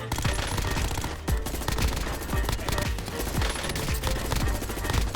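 Submachine gun fire in the shooter Warzone: dense, loud rapid bursts crackle nonstop over a busy game soundscape, up close and sustained throughout.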